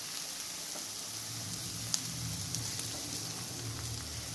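Marinated pork frying in oil with garlic and ginger, a steady close sizzle and crackle throughout with a few sharper pops and no talking.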